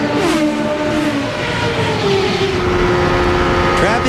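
IndyCar race cars at the 1993 Michigan 500 howl loudly with high engine notes that rise and fall as they pass, under continuous commentary talk.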